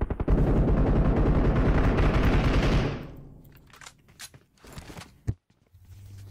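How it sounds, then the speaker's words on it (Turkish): A dense barrage of bombardment explosions and gunfire crackles continuously in PUBG Mobile for about three seconds, then drops to sparse scattered blasts, one sharp louder bang and quieter game noises. "Bomba geliyor."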